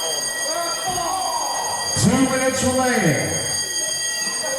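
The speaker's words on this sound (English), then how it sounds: "I just hope this fire alarm isn't going to distract him." A fire alarm sounds in a wrestling venue, its repeating electronic tones running steadily under an excited commentator announcing the time remaining, with a louder swelling tone in the middle.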